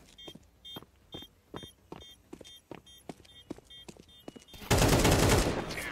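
Gunfire in a Counter-Strike-style round: a series of sharp, evenly spaced single shots with a beeping tone between them, then a sudden loud burst of noisy fire at the end.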